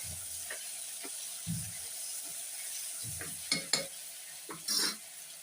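Chili powder and green chilies sauté in a pan for a moong dal side dish, with soft sizzling under several scraping stirs of a spoon against the pan.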